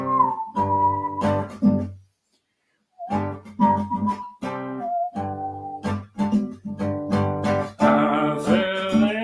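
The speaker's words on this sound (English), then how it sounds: "I can whistle better, maybe." A person whistles a melody in short, bright phrases with brief pauses between them, close and fairly loud, the tune rising and falling in a sung-song pattern.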